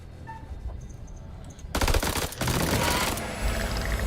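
Bursts of heavy automatic gunfire in the horror game House of Ashes break in after a quieter ambient stretch, loud and sustained rapid shots filling the rest of the moment with no talk.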